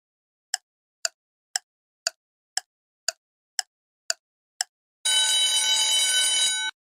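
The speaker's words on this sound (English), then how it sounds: "Timer starts now." A quiz countdown timer ticks eight times at an even one-per-half-second pace, then a loud, sustained electronic alarm rings out to mark time up, with nothing else around it.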